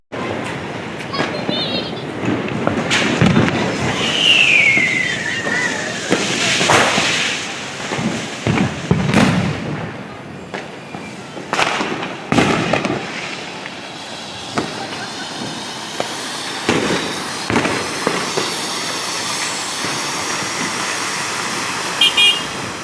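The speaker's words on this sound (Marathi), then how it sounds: "आम्ही दोघी मिळून फटाके उडवणार आहे" Diwali firecrackers and fireworks go off outdoors in a series of sharp bangs and pops, with a rising whistle of a rocket early on, amid ongoing crowd chatter and talking nearby.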